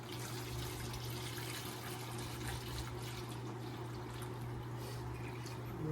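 Coolant water pours steadily into the radiator of a 1949 Plymouth P15, a continuous close splashing stream over a low hum for several seconds.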